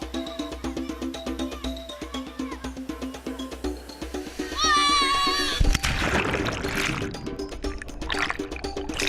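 Water crashes and splashes at a roughly 10-metre waterfall in Bangka where people jump into the pool, a loud broadband wash rising midway and continuing over earlier tonal background sound.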